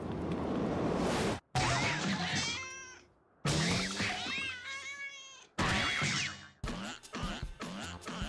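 Cat meows in the video game Final Fantasy XIV: Heavensward, several loud, close, drawn-out cries in separate bursts with short pauses between them and no talk over them.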